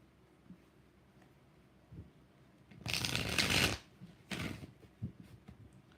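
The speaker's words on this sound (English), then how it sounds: "Three more shuffles." Tarot cards being shuffled by hand, two distinct riffling bursts, a longer one followed by a shorter one, close and crisp against a quiet room with a few soft taps in between.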